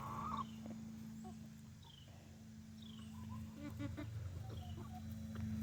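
Chickens let out to free range outdoors, giving scattered faint clucks and short calls over a steady low background hum, with no talking.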